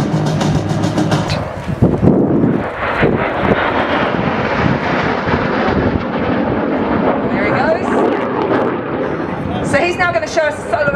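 A jet aircraft flies a solo aerobatic routine at the Wanaka Air Show 2014, a loud, sweeping roar that swells and shifts as it passes, with a voice talking over the engine noise.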